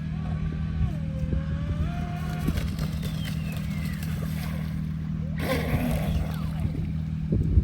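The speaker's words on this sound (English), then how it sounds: "But this is the lowest kV outrunner boat I've ever ran" A Volantexrc Vector SR80 Pro RC boat with a low-kV outrunner motor runs on the water, a steady electric whine and hum that rises and falls with throttle, while someone talks over it.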